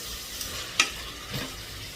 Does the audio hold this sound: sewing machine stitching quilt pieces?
no